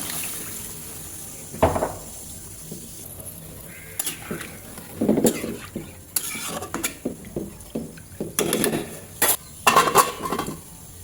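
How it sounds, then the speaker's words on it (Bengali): Water goes into a fish curry cooking in a pan, followed by scattered clanks and scrapes of a utensil stirring against the metal, with splashy bursts spread across a quiet kitchen. "তো এখন আমি পানি দিয়ে দেবো।"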